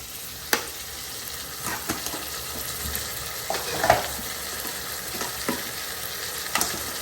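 Ginger paste and onions sizzle steadily in hot coconut oil in a pan, with a close, even frying hiss broken by occasional sharp clicks and scrapes of stirring.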